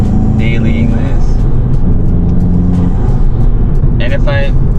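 A Volkswagen GTI fitted with an Integrated Engineering intake and a Stage 1 tune, heard from inside while being driven, gives a loud, steady engine drone and road rumble with brief higher whines.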